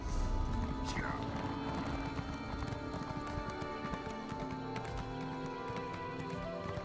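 Horse hooves clip-clopping in the video game ESO, a soft, steady run of hoofbeats under a constant game ambience, with a voice speaking in the background.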